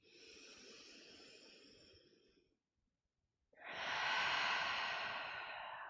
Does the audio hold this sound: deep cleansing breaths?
yes